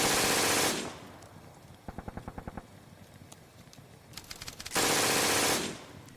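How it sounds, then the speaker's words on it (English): An MG-42 machine gun fires in a tabletop battle sound effect: a short, fast burst of about eight sharp rounds and a second quicker rattle, set between loud broadband blasts of noise. "The MG-42 claims 2 more British lives."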